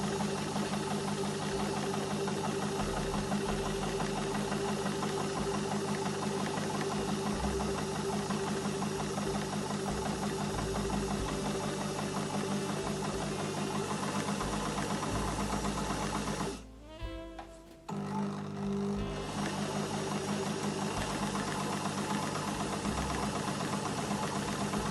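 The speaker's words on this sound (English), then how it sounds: "Leave my needle down, lift the foot, twizzle the fabric round and pop the needle back down." A domestic sewing machine stitches the corners of homemade fabric Christmas napkins, a steady close mechanical hum and chatter that briefly stops near the end before resuming.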